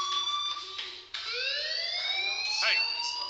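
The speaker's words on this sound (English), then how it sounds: "Hey, do you hear that fire alarm?" A school fire alarm in the video game Life is Strange wails on and on with a steady, rising electronic tone and a short break partway through, loud and continuous, with a faint voice underneath.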